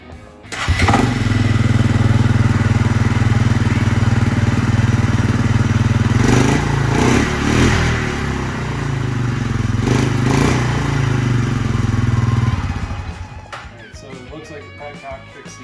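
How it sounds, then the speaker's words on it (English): A 2003 Suzuki Eiger ATV engine cranks and catches, then runs at a loud steady idle with a couple of throttle blips before shutting off near the end. "We're gonna go ahead and start it as long as the battery cooperates."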